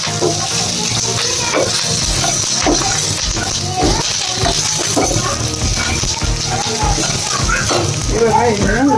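Curry leaves and a spoonful of cumin hit hot oil for a chutney tempering, giving a loud, continuous crackling sizzle that fills the whole stretch, with a few stirring knocks on the pan.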